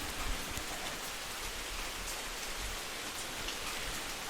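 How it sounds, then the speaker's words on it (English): Rain falls steadily on and around a porch, a dense, even patter of drops with no talking. "we are out on my porch in the rain"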